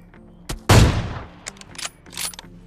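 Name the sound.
MK14 rifle gunfire in video game BGMI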